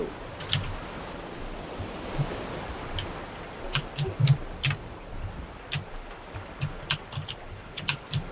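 Strong wind and breaking waves from the survival video game Raft form a continuous surf-like wash. Frequent short clicks and taps recur over the top of it.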